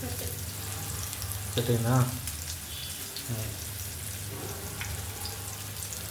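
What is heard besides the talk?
tuna fish frying in a pan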